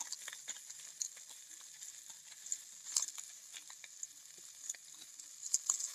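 Chili powder and cumin powder frying in oil in a pan, a quiet steady hiss with faint scattered pops and crackles, close by and without talk.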